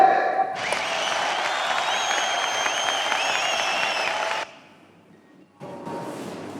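Audience applause at a Burmese anyeint comedy-dance stage show, a dense sustained wash of many hands lasting about four seconds, then dropping away before a quieter stretch of crowd noise.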